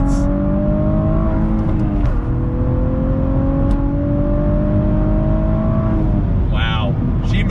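A Cadillac ATS-V with a 6-speed manual accelerates hard on throttle, its engine rising in pitch through a gear change around two seconds and climbing again, loud and close from inside the car with boost building.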